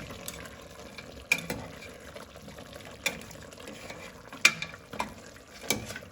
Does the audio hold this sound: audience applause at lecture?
no